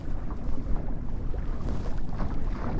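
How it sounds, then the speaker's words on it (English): A 14ft sailing dinghy tacks into the wind off Point Lynas, Anglesey, giving a steady wash of water, hull noise and gusty wind buffeting close to the microphone, with no voices. "Tacking my way up around Point Lynas into the wind."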